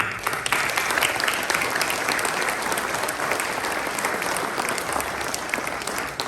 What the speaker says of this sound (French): À vous de vous applaudir, merci.